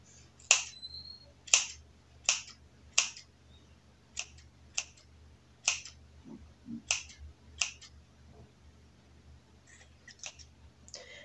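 Sharp scissor snips cutting the tips of someone's own hair at home, about a dozen crisp, close clicks at an uneven, deliberate pace with short pauses between cuts.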